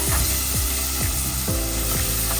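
Tomatoes sautéing in a clay pot for a fish curry, a steady loud sizzle broken by repeated scraping stirs at a roughly regular pace, with no voices.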